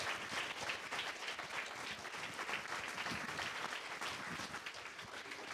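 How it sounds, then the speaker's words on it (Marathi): A church congregation claps loudly together at a Sunday service, dense sustained applause filling the room throughout. "जोरात टाळ्या वाजूयात, प्रभूला धन्यवाद देऊयात."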